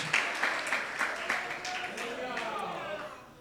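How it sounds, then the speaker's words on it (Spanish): Church congregation clapping in praise, a crowd of hands falling into a loose rhythmic beat that softens and thins out toward the end, with a voice speaking faintly underneath. "Dele esa ofrenda de aplauso al Señor."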